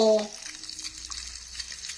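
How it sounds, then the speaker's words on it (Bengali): Miniature gaja sweets dropped into hot bubbling oil, a steady soft sizzle and crackle that continues evenly after a brief knock at the start. "এবার দাও দেখিনি গজাগুলোকে এক এক করে ছেড়ে"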